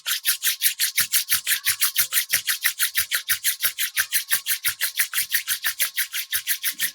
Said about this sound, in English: Rub your palm against each other. Generate some heat.